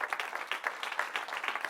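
An audience claps in steady, moderately distant applause, a brief quiet patter of many hands with no voices over it.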